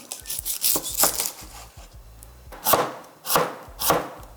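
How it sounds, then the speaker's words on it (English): A knife chops a celery stalk finely on a cutting board for an omelette, giving a close, crisp run of rhythmic knocks, quick at first and then spaced into firmer strokes, with no voices. "I'm using the celery stalk that I'm gonna chop really fine"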